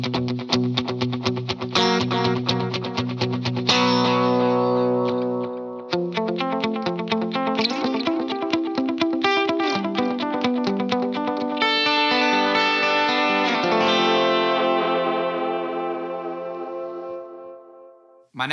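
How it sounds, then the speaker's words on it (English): Electric guitar played through a Line 6 Helix with a dotted eighth note delay, its rhythmic repeats cascading behind continuous chiming notes and chords, loud and close, tails ringing out at the end with no talking. "Next up is my dotted eighth note delay snapshot"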